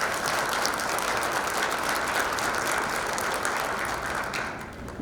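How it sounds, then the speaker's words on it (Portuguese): An audience at a public hearing applauds steadily, a dense, full wash of clapping that holds evenly for several seconds before beginning to thin out at the end. "Uma salva de palmas."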